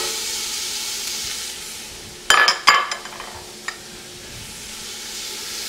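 Vegetables cooking in a warm pot for bouillabaisse: a steady soft sizzle and hiss runs throughout, broken midway by a few sharp utensil clatters against the pot, with no talk.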